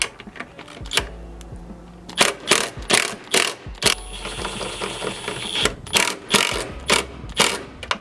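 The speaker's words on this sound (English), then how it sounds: "Take our two 8mm screws. Put our bolts back in." Ratchet clicking in quick repeated bursts while tightening 8mm bolts on a 2008-2015 Honda Pilot tail light, close and crisp with short pauses between runs of clicks, no talking.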